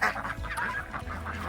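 Farm ducks kept among citrus trees on a New Zealand homestead give soft overlapping quacks and honking calls at a moderate distance, continuous through the short stretch with no talking.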